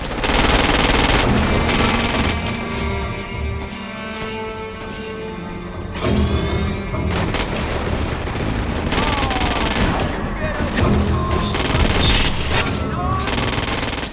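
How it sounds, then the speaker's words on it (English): Gunfire in an Xbox 360 shooter video game: dense, loud bursts of automatic fire and scattered single shots ring out throughout, with game voices occasionally speaking beneath. "Shoot an enemy's arm to stop them from returning fire."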